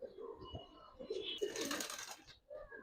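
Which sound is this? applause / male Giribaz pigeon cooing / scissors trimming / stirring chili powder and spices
male Giribaz pigeon cooing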